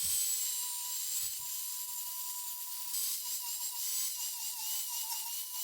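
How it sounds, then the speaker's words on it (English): A small rotary grinder takes thick powder coat off the throttle tube of a Honda Ruckus scooter, making a continuous high, thin whine with a few brief dips and some faint clunks underneath. "This powder coat's too thick, so I'm gonna have to grind this"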